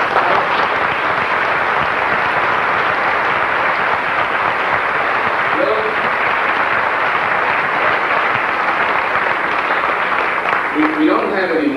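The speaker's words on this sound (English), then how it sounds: "this lady deserves a real special round of applause" Sustained audience applause at an event honoring a prostate cancer spokesman, a dense steady wash of clapping throughout, with faint voices underneath.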